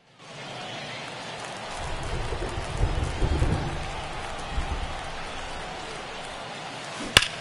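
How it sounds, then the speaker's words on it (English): Steady broadband hiss of rain falling on a baseball field in MLB The Show 24, continuous throughout with a low rumble swelling near the middle and a sharp click near the end. "the field's not going to be able to hold up if the rain gets any worse than this"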